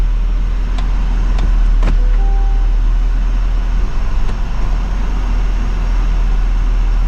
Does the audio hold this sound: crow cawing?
no